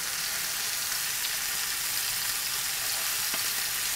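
Chicken frying in a pan at low temperature, a steady close sizzle with light crackle that runs unbroken throughout with no voices.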